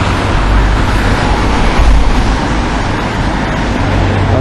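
Dense street traffic rumbles steadily and loudly, a continuous broadband roar of passing cars and heavier vehicles with no clear breaks.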